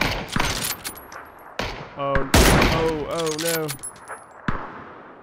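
Bursts of gunfire in the battle game PUBG, a few sharp single cracks followed by a rapid volley in the middle, loud and close, with a person talking and exclaiming over the shots.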